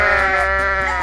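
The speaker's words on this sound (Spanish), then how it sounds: "¡Mira todas esas cabras, brother!" A goat gives one loud, close, sustained bleat with a wavering, nasal tone that fills the whole moment.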